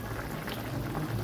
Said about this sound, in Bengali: মালাইকারি ফুটছে